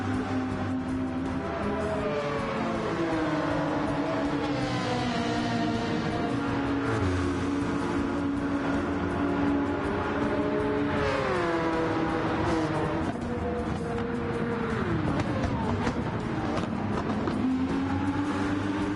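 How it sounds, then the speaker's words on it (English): High-pitched rotary engine of the Mazda Vision concept car racing in Gran Turismo 7, revving up and down through rising and falling sweeps with gear changes, loud and continuous. "You could kind of hear the rotary engine out of it. That Mazda Vision concept."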